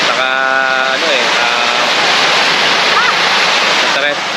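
Loud, continuous roar of strong afternoon surf crashing on a beach in San Felipe, Zambales, fills the scene, with brief voices speaking over the rushing water.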